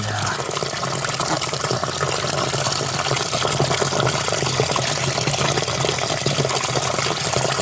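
Water runs steadily into a leaking garden pond with a big hole in its liner, a continuous broadband splashing and trickling that holds at an even level throughout.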